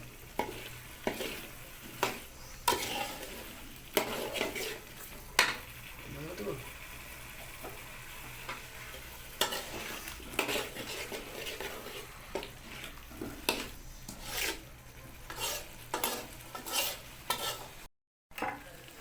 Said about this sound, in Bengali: আলু এটাকে ভালো করে কষে নিয়ে হবে